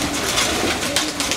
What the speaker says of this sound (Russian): Вот это голубь, который чуть не умер от голода